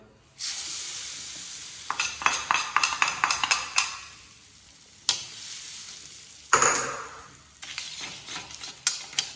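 A metal spoon stirs sizzling tempering into cooked gongura (sorrel leaf) chutney in a pan, with bursts of rapid scraping clinks and sizzle separated by short pauses, close up and with no talking.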